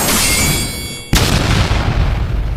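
A red energy blast explodes as a sharp, loud boom that cuts off a bright hiss, followed by a dense rumbling roar that lingers to the end.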